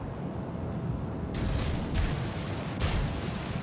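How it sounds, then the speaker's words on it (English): Battleship Kansas firing its guns in World of Warships, a few deep booming salvos over a constant low rumble of battle, fairly muffled and without talk. "Kansas puts shots out on the Jean Bar."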